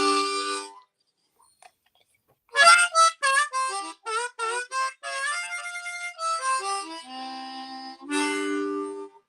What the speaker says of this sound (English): It's a John Lennon harmonica.